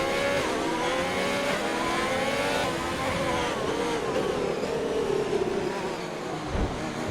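Formula race car engines in a GP2 race at the United States Grand Prix, a layered high-pitched whine of several cars revving and shifting, with pitch sweeps as cars pass.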